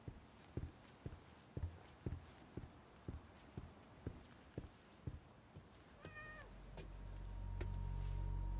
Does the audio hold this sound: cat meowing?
yes